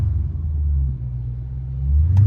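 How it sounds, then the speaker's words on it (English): Deep, low engine rumble from the V8 exhaust of a hoodless Dodge Challenger Scat Pack 392, a steady throaty burble that swells slightly toward the end. "I know y'all hear these burbles, bro."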